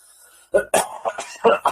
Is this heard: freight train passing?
no